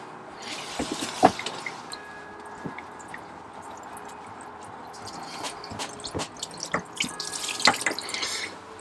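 Water draining from the hot water tank of a Ranger Tug R27 boat into the bilge, a steady trickling flow with scattered drips and small splashes, close by and continuous, with no talking.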